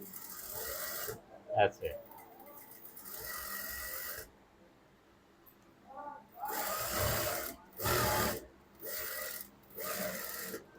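A sewing machine stitches fabric in several bursts of fast mechanical whirring, close and moderately loud, separated by pauses, with a brief spoken word near the start.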